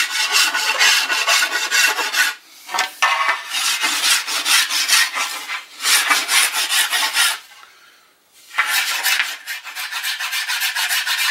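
Coarse 50-grit sandpaper rasps over a wooden board bow in steady, loud back-and-forth strokes, broken by a few short pauses.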